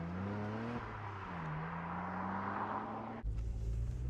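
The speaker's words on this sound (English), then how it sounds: "I love the sound on startup. Just that beefy starter motor makes you feel like you're in something special." A BMW Z4 E85 roadster's starter motor whirs with a steady whine for about three seconds, then the engine catches with a sudden, louder low rumble. No one speaks.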